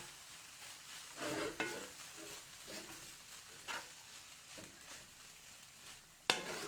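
Curried kale and quinoa stirred in a pan, with soft sizzling under intermittent scraping strokes and a sharp utensil knock near the end, no voices.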